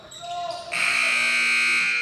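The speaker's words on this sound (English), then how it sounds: "Buzzer on the court there." Basketball court buzzer at a championship high school tournament game, a loud sustained electronic tone that cuts in partway and holds steady to the end, over faint crowd and court noise.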